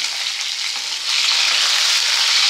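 Salted brinjal pieces fry in hot oil while being stirred, producing a loud, continuous close-up sizzle that swells slightly partway through.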